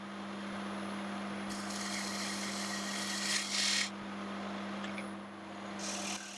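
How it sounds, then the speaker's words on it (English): A spindle gouge rolls beads along the edge of a wooden wall plaque spinning on a wood lathe, giving a steady close whir with a scraping, hissing cut that swells and fades in short bursts. "I'm just using a spindle gouge and rolling a few beads on the edge."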